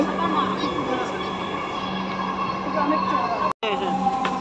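Steady rumbling hum of a metro train in motion, with murmured voices in the carriage and a brief sharp cut near the end.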